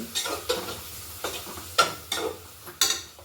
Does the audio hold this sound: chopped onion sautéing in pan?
yes